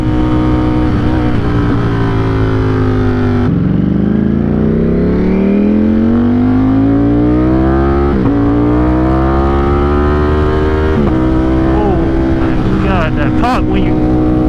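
A Ducati Streetfighter V4S motorcycle fitted with an Arrow exhaust roars loud and close as it accelerates through rising gear pulls, with abrupt shifts and sharp pops, under wind noise.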